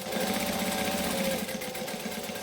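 A sewing machine runs steadily through a backstitch on a hoodie hood, its fast, even needle chatter sounding close and continuous with no talk over it.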